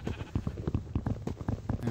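Minecraft sheep bleat in a run of short, rhythmic game calls, repeating at a steady pace across the moment, close and clear with no talking over them.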